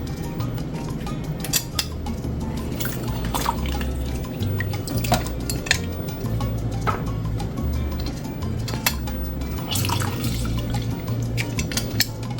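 Juice drips and trickles steadily from lemons squeezed by hand for shrimp aguachile, a run of small wet drops and splashes over a low, steady background hum.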